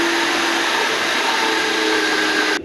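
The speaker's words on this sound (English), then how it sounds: "I got the potato ground up through the meat grinder" Electric meat grinder grinding potatoes for potato pancakes, a steady loud motor drone running continuously up close before cutting off at the end.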